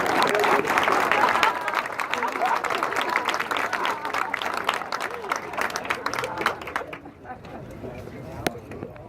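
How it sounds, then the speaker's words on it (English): Audience applause at a Mardi Gras association event in Mobile, Alabama, loud and sustained clapping from a crowd that gradually thins and fades toward the end. "Let's give her a big round of applause."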